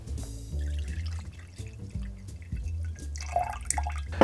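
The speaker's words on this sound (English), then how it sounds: "we'll just basically squeeze them out and then pour the juice into a separate container." Juice from freshly squeezed oranges pours and drips into a separate container, a close liquid trickle with scattered drips over a low steady tone.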